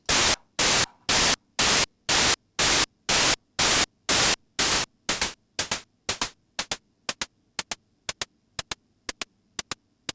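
Synthesized hi-hat hits in a steady rhythm, starting as long noisy bursts and shortening into crisp, tight ticks, loud and alone.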